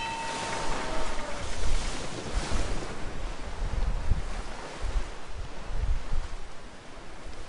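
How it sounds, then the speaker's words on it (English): Ocean waves roll and break in Assassin's Creed III, a steady wash of surf mixed with gusting wind that swells and eases across the whole stretch, with no voices over it. "Look at the waves."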